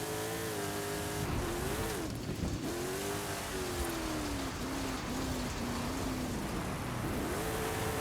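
A 1970 GMC K5 Jimmy truck in Forza Horizon 5 drives with a steady, loud engine drone. The pitch rises and dips as it revs and shifts, with gritty tire and road noise throughout and no talking.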